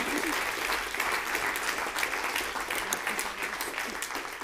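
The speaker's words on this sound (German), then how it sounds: "Ein Applaus für die Projektgruppe." Sustained audience applause at a teacher-training college conference day in Zurich, a dense steady clatter of many hands clapping for several seconds without a break.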